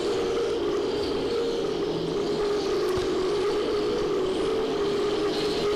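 Race cars running nose to tail near the front of the field, bumpers touching, produce a loud, continuous engine drone that holds steady without breaks.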